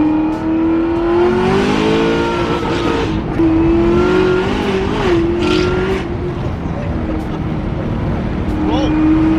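A 900 hp Camaro ZL1 engine revs loud and close with a steady harmonic drone that swells, eases and climbs again, while people talk over it inside the car.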